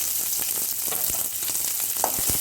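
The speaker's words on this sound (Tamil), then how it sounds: "ஹீட் ஆனோடனையும் நம்ம எடுத்து வச்சுருக்கிற சின்ன வெங்காயம், பூண்டு, வரமிளகாய், கருவேப்பிலை எல்லாத்தையும் எடுத்துக்க போட்டுக்கலாம்" Shallots, garlic, dried red chillies and curry leaves sizzle briskly in hot sesame oil for a South Indian chutney, a loud, close, crackling fry with occasional stirring and spatters.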